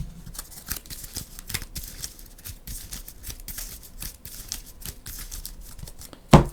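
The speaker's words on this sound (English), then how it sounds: "We're going to shuffle the top 3 cards back into our deck." Playing cards from a Marvel Champions game are shuffled back into a deck, giving close, quiet riffling and soft card slaps in uneven bursts, ending with a sharp tap.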